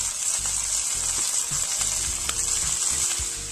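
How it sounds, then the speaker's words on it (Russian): Perch fillet, salted and peppered, frying in a pan with a constant loud hissing sizzle and small crackles, heard close and alone without voices. "И теперь мы его обжариваем с каждой стороны примерно по 4 минуты."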